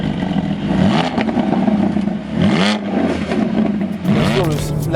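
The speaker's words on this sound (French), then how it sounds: "Bien sûr le flat 6, donc le 6 cylindres de chez Porsche, habituel les copains, qui est juste derrière nous." A 2023 Porsche 718 Cayman GT4 with its 4-litre flat-six and valved exhaust revs loudly close by in repeated rising and falling sweeps, with someone talking over it.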